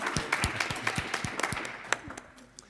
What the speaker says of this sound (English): Perhaps we can all give him a round of applause.